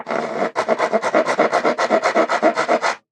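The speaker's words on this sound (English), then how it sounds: "I think I would just hit this with a rasp" Rasp filing along the edges of a wooden dowel: rapid, rhythmic back-and-forth rasping strokes, about twenty in quick succession after a brief opening stroke, close and loud, with no voices.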